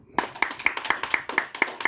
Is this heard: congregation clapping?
yes